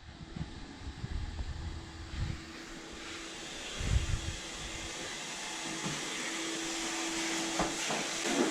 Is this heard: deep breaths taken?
no